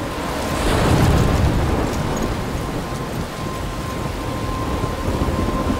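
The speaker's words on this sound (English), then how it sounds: "I'm trapped in a storm?" A thunderstorm with heavy rain in the video game Life Is Strange: dense steady rainfall over a deep rumble of thunder that swells early and then settles into a continuous loud wash, with no speech.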